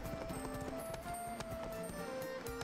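Horse hooves clip-clop steadily in the video game ArcheAge, a soft, even trotting rhythm layered under continuous in-game background music.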